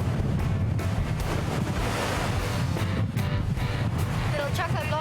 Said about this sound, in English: like you can see, it's extremely windy this afternoon